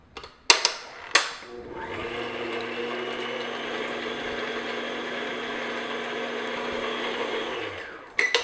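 An electric mixer beating butter with about 210 grams of light brown sugar, starting after two sharp knocks and running as a steady, close whirring drone for about six seconds before stopping with a clatter.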